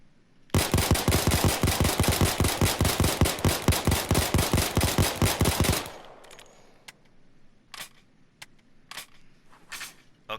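Rapid gunfire from a Beretta 92 (Bernetti 9) pistol in the game Payday 2, a loud, fast, evenly spaced string of about thirty shots for five seconds, then silence broken by a few faint clicks.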